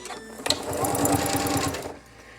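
A sewing machine stitches binding onto a quilt, a rapid close mechanical run of needle strokes lasting about a second and a half, then stopping.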